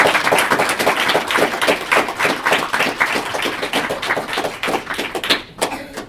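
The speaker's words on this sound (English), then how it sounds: "So, give them a big round of applause." An audience at an IEEE EPICS event claps loudly for scholarship recipients, a dense, steady patter of many hands from the room that continues throughout and tapers near the end.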